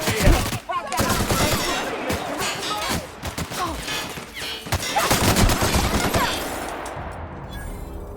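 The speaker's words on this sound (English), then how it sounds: "Alright, some good hip fire there." Rapid hip-fired gunshots in The Outer Worlds, loud bursts of overlapping shots and impacts in quick succession, with a voice talking over the gunfire.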